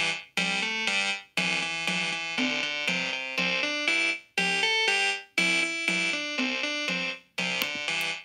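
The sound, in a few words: repeating melody and percussion pattern made in Chrome Music Lab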